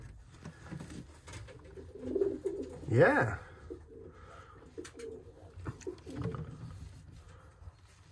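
Pigeons coo softly in a breeding loft with a young bird on the nest, low murmuring calls repeating under brief speech.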